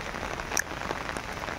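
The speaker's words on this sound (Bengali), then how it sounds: "তা তো যে বৃষ্টি নামছে যায় হামু না" Steady rainfall hiss on outdoor surfaces during a wet day in Assam, with a few sharper drops and splashes standing out, heard alone with no talking.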